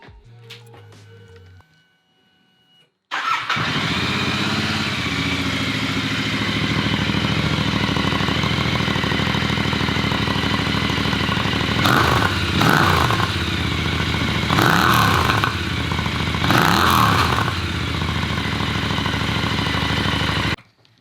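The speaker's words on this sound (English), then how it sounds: "Definitely quieter, but it has more of like that British twin sound that I feel like is very notorious for these sort of bikes." A Royal Enfield Continental GT 650 parallel twin fitted with S&S slip-on mufflers starts after a few seconds of quiet, then idles steadily and loudly nearby, with several short throttle blips near the end.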